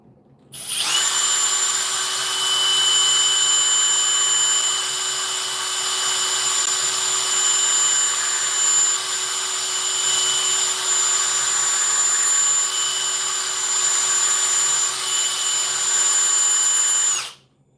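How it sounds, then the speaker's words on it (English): A steady high-pitched whine of a power drill boring through deer antler, running continuously for over fifteen seconds, close and loud, cutting off abruptly at the end. "Just drill right through the middle of this guy."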